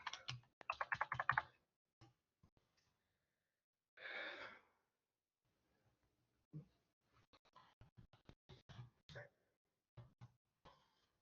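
Typing on a computer keyboard while entering color names into a Google Sheets spreadsheet, a few quick bursts of soft key clicks at close range separated by pauses, with faint breaths and small clicks between.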